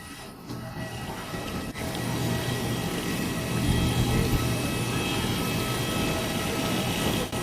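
Steady broadband roar of an EasyJet airliner cabin in daytime flight to Lisbon, a continuous engine and airflow drone with a low hum, alone and without talk.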